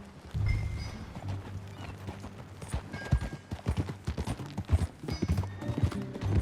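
Horse hooves clip-clop as a rider sets off in the Red Dead Redemption 2 video game, a quickening rhythmic beat up close with a whinny near the start and low rumbling ambience.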